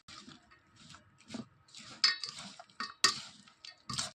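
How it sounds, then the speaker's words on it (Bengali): Radish pickle is mixed with heated mustard oil and spices in a bowl, with a wet, squelching stir and several sharp clinks of a spoon against the dish, close and intermittent. "তেল দিয়ে ভালো করে মিক্স করে নেব।"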